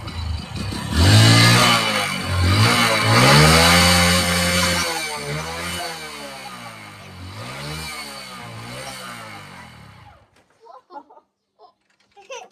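A motorcycle running on paint thinner revs loudly and steadily, then is put in gear and labours under load with rising and falling engine pitch before cutting out, leaving a few faint clicks.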